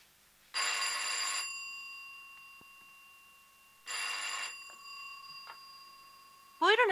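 An old telephone rings on the far end of a call in a Turkish film: two bright, bell-like ring bursts separated by a pause, then a voice begins speaking as the call is answered.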